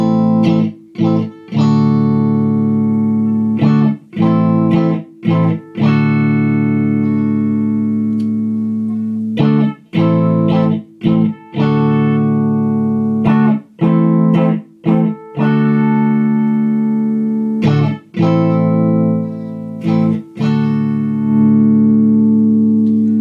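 Aria Pro RS850 electric guitar played through a distorted amp with a vocal, wah-like pickup tone, sustained notes and chords repeating in phrases with short gaps between, loud and close.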